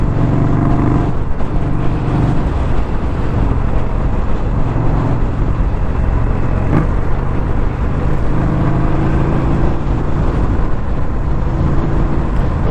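Steady, loud riding noise from a 2021 Indian Scout Bobber motorcycle, a dense continuous engine and road rumble at speed with wind roar, unbroken for the whole stretch and with no talking.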